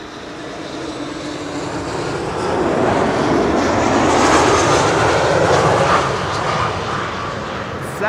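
An airliner landing at Schiphol on the Kaagbaan runway, its engines a loud, steady broadband roar that swells to a peak midway and then eases slightly, with no talk over it.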